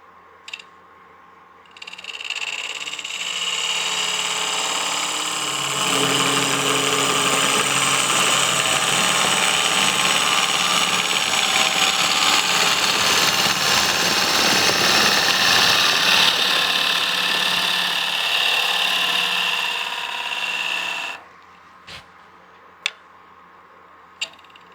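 A woodturning gouge cuts wood on a lathe, giving a loud continuous rushing, scraping cut that swells slightly and runs for about twenty seconds before stopping, with a few light taps and clicks after.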